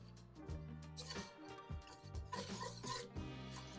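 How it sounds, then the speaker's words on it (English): Whisk scraping and rasping through a butter and flour roux in a pan, in quick irregular strokes, quiet and close, with no voices. "Let's start whisking."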